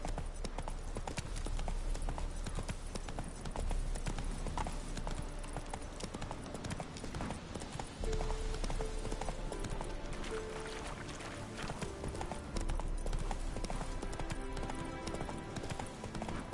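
Horse hooves clip-clop steadily in The Witcher 3 video game, a continuous galloping rhythm heard under a constant bed of background music.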